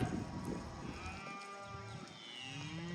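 Mashona cattle and calves moo repeatedly as the herd is moved, several overlapping calls near and far with long drawn-out tones over a steady outdoor background.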